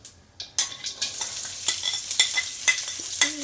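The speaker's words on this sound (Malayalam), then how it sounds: "സവാള ഇട്ട് കഴിഞ്ഞിട്ട് നമ്മൾ സവാള നെയ്യിൽ ഇങ്ങനെ നല്ല വാട്ടിയെടുക്കണം" Onions are stirred in hot ghee after mustard seeds have popped, giving a steady sizzling fry punctuated by repeated scraping and stirring strokes in the pan.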